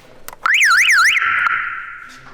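A loud car alarm whoops up and down in rapid cycles, then settles into a sustained steady tone before fading.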